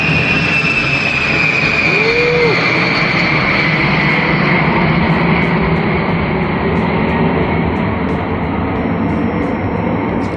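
A loud, steady roar of a plane passing overhead, broad and continuous, with a faint whine drifting slowly downward.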